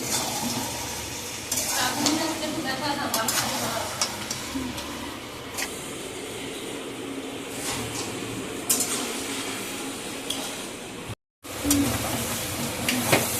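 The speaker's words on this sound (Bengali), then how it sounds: "মটনটা কষা হচ্ছে, ভালো করে একটু কষিয়ে নিয়ে" Mutton sautéing in a pan gives a steady sizzle under repeated spatula scrapes and clinks against the metal, with a brief break near the end before the frying resumes.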